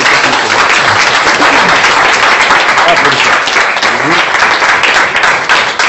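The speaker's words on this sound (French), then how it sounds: "Applaudissons pour le Seigneur" A church congregation applauds in praise, dense loud clapping sustained throughout with voices mixed in beneath the crowd noise.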